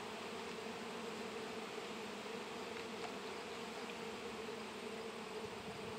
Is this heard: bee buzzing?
yes